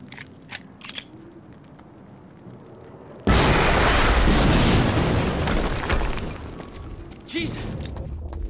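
A loud, sudden blast in the video game Quantum Break erupts after quieter footsteps and ambient noise, then sustains as a dense roaring rumble for several seconds before easing and flaring again near the end.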